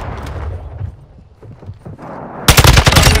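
Machine-gun fire in the shooter game Modern Warfare 2 bursts in loud and dense near the end, a rapid rattling volley after a stretch of quieter scattered gunfire and game noise.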